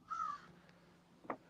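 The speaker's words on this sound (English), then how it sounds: "The crows." Crows caw outdoors: a loud, drawn-out call up front, then a single shorter, harsher caw about a second later, over a quiet background.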